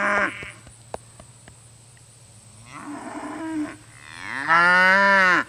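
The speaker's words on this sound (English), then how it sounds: "cows are gonna make all kinds of noise." Livestock call out on a farm where cattle and sheep are kept, with a short bleat-like cry, quiet clicks, then a rising, drawn-out moo-like bellow, fairly close and loud at the end.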